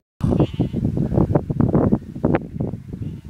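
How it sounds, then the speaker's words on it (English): Sheep bleating loudly and repeatedly close to the microphone outdoors during a bike ride, a rapid run of wavering cries with some wind buffeting. "You can't even go on a bike ride without being heckled by sheep."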